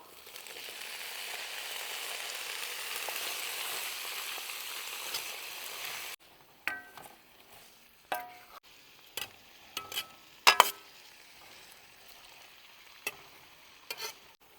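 Banana stem pieces for pickle frying in a pan, a steady sizzle for about six seconds, then separate scraping stir strokes and clicks against the pan with quiet gaps between them.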